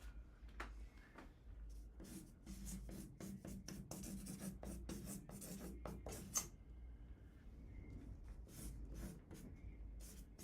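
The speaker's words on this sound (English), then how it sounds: "I'm gonna write those down." Quiet scratching of a pen or pencil on paper as notes are written by hand, with a run of short, uneven strokes and small pauses close to the microphone.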